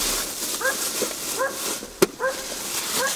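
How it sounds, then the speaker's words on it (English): A neighbor's dog barks and yelps repeatedly at a distance, short pitched bursts every second or so over steady outdoor background noise, with one sharp knock partway through. "That's my neighbor's dog,"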